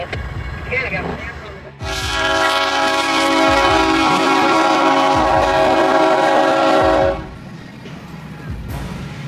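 A train horn sounds in one long, loud blast of about five seconds over rumbling wheels, with rail clatter and a brief voice around it.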